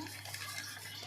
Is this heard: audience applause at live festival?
no